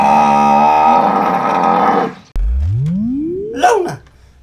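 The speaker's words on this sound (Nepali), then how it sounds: "यो भैँसी हो कि रागो के हो त्यो चाहिँ ठिक पारिदिनु पर्यो" A buffalo gives a single loud, close moo, a long low tonal call that rises at the end, after a stretch of other tonal sound.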